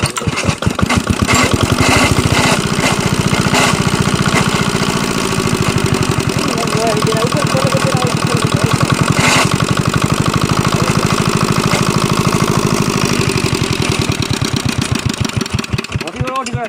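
A shallow-machine water pump engine irrigating a potato field, thumping out a loud, rapid, steady chug close by, with people talking over it.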